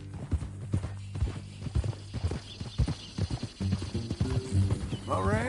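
Clip-clop of horse hooves in Red Dead Redemption 2, a steady walking rhythm of close, distinct hoof strikes under ongoing conversation, with a short horse whinny near the end.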